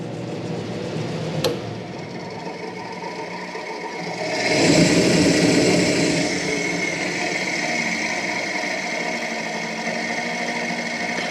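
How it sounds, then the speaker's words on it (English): A homemade waste oil heater in a garage runs with its small combustion air blower: a steady whirring drone that swells into a louder roar around halfway, then holds constant, with a single sharp click early on. "I can control how much wind is being blown by this little blower here"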